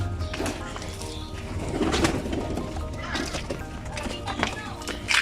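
Breeder pigeons coo softly in a loft, with scattered low calls and light shuffling against a background of nearby talking voices.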